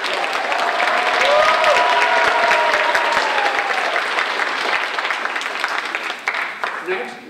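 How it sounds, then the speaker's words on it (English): Steady applause from an audience at a civics bee contest in North Iowa, honouring a contestant. It stays dense and continuous, then thins toward the end as a few whistles or voices come through. "Give her a round of applause."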